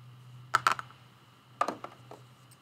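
Scissors snip quilting thread after a stitch is knotted: two quick pairs of small, crisp clicks close by, separated by about a second, over a low steady hum.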